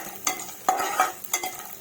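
Gond (edible gum) fries in ghee over a low flame, giving a quiet sizzle broken by several short scraping strokes of a spoon stirring in the pan.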